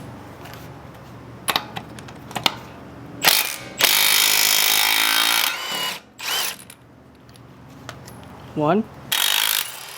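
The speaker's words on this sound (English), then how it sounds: "this M12 impact wrench taking off lug nuts" A Milwaukee M12 impact wrench hammers off lug nuts on a Tacoma in several loud sustained bursts, broken by short pauses and clicks, with a brief spoken count near the start.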